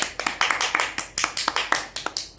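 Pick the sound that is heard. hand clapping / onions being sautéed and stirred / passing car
hand clapping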